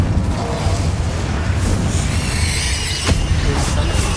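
Casting Incendio in Hogwarts Legacy on PS5 releases a loud, dense roaring burst of fire with crackling hiss and a sharp snap partway through, all close and filling the whole moment.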